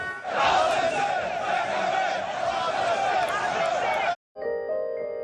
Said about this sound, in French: La foule venait là crier sa haine de l'immigration.